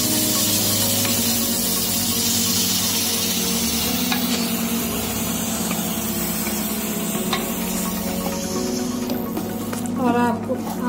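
Grated carrot for carrot halwa sizzles and spits in hot melted ghee while being stirred, a steady loud frying hiss with someone speaking over it.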